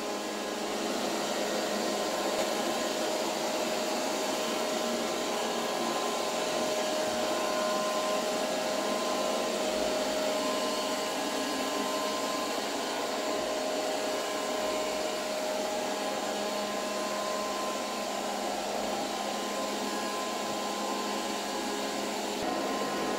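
Silvercrest SSWR A1 robot vacuum cleaner with mop function running, a continuous whirring motor drone with a faint steady whine, close and even, with no speech over it.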